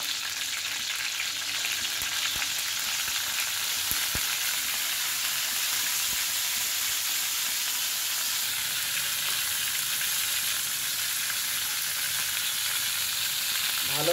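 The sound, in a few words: hilsa fish head frying in a pan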